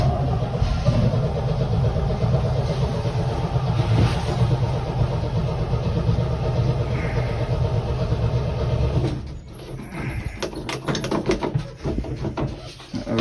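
A 1972 Chevy C10 engine runs steadily and loud with fuel fed to the carburetor, then sputters and surges in uneven bursts toward the end.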